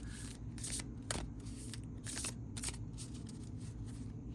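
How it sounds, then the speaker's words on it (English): A deck of conjure divination cards being shuffled by hand, giving repeated soft riffling bursts over a low background hum, fairly quiet and close. "the cards, like, they seem to shuffle fairly well"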